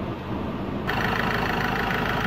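A 2017 Ford Ranger XLT with a 2.2-litre diesel engine idles steadily and close by, a low continuous rumble that grows somewhat louder and brighter partway through, with no talking.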